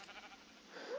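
A single short sheep bleat from the video game Minecraft, faint and thin, rising at the end over a soft hiss.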